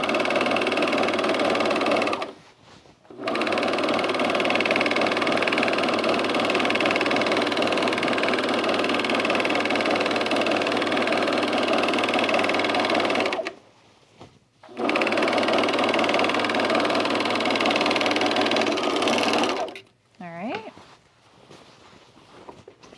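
A sewing machine runs in long steady bursts while stitching corduroy for a pair of Meriam trousers, its motor whirring continuously and close by, with brief pauses between runs and a faint clink at the end.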